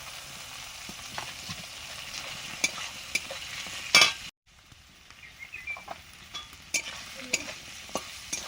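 Potatoes frying in oil in a pan give a steady close sizzle with stirring clatter. A sharp clank precedes a brief drop to quiet, then the sizzling resumes, broken by scattered taps.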